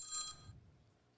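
A telephone rings once, a short bright electronic trill in a quiet room that cuts off quickly into near silence.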